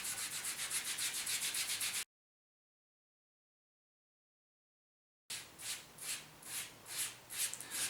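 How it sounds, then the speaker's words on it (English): Glue is rubbed into the sponge of a table tennis bat rubber, making soft rhythmic swishing strokes in close-up, with a silent pause between two bursts of rubbing. "I'm going to get a little bit on the sponge and then start rubbing that in."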